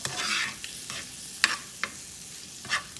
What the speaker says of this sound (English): All right, so mix that really well.